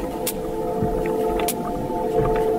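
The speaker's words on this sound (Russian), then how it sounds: "Итак, я слышу кашалота. Ровные щелчки." Sperm whale clicks picked up by an underwater hydrophone: two sharp, sudden clicks about a second apart stand out over a steady underwater hum and noise, fairly faint and distant.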